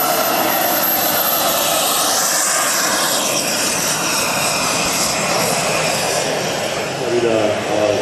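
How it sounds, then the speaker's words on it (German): A huge 1:4 scale RC model F-104 G Starfighter jet on the runway at the Jetpower Fair 2016 gives a loud, continuous turbine roar and hiss that swells slightly toward the end. "die TC-21 kommt jetzt zur Landung rein, während der Starfighter auf der Bahn gebremst wird und beschleunigt"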